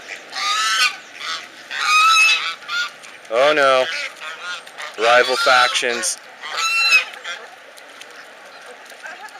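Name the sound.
ducks fighting, honking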